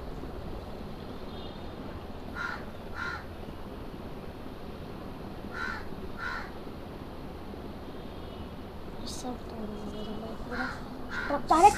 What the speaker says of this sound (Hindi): अरे क्या कौवा किच किच कर रहा है सिर्फ